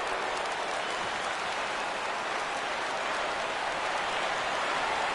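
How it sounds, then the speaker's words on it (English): A baseball stadium crowd at a Game 7 rises and cheers for a full 3-2 count, a dense, continuous roar of distant voices and clapping that stays loud and even throughout. "Crowd gets up for the 3-2."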